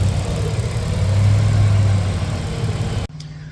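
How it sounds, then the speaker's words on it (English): A Nissan Navara's VG30 engine idles steadily and close by, a low even rumble with a faint rapid ticking from the fuel injectors running through it, then it cuts abruptly to near quiet. "The loudest noises you can hear is the injectors."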